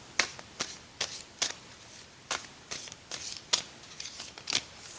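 Playing cards being shuffled during a live stream, heard as a series of quick, crisp riffling bursts at irregular intervals, fairly close and faint.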